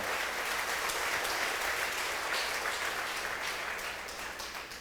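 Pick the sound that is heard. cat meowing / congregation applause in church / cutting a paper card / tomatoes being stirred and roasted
congregation applause in church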